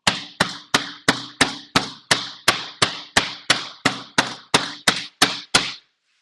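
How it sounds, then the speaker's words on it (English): Sixteen evenly spaced, sharp hammer blows from a Milwaukee hammer striking cilantro on a board for rustic guacamole, loud and close, each a crisp thwack with a brief decay, with no talking. "Don't hammer your cilantro."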